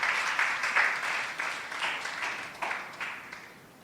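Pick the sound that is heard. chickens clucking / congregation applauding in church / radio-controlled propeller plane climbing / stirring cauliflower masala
congregation applauding in church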